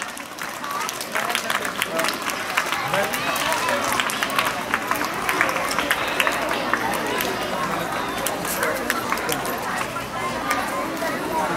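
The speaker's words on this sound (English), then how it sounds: "please clap for them" Supporters at a school sports day meet clap for the runners, a dense, steady crackle of applause mixed with crowd chatter and shouts throughout, fairly loud and continuous.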